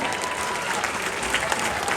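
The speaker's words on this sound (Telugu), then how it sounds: "ఒకసారి ఆయన గట్టిగా చప్పట్లు కొట్టండి" An audience at a live comedy show clapping loudly and steadily, a dense burst of applause from a crowd.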